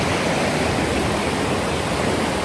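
Deep, cold, fast glacier-fed spring water rushes in a continuous, loud, broadband roar without pause.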